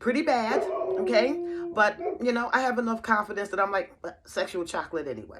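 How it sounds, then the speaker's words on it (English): Dogs yip and whine in short bursts close by, mixed in with a person talking over them. "So anyway, excuse the dogs."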